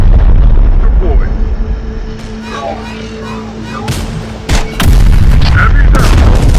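Gunfire and heavy booms in the Terminator Dark Fate Defiance war game, a loud continuous battle rumble with sharp shots and blasts, under brief voice callouts.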